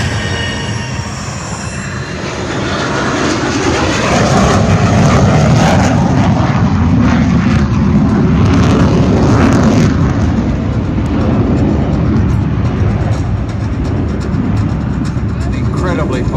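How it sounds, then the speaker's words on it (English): A jet aircraft passes low with its landing gear down at the 2022 Wings over Illawarra air show, its engine roar swelling into a loud, sustained rumble overhead while an announcer talks over it. "Coming down with the gear down now at about 200 knots. And about 200 feet."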